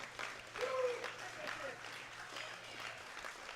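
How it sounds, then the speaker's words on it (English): A crowd at an equipped powerlifting world championship in the men's 120 kg class claps and cheers in a steady, dense wash of applause that swells briefly and keeps going throughout. "everyone in the crowd is clapping and cheering for him"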